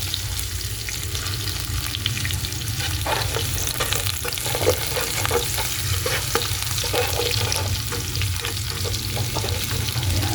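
Garlic frying in oil and being stirred for kare kare, a steady close sizzle with scraping and clinking of a utensil through the pan, loud and continuous with no talking.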